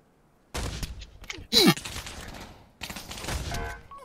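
Bursts of gunfire from a newly added gun in the VR shooter Pavlov, sharp reports in rapid clusters with one loud close shot, mixed with a voice talking over the action.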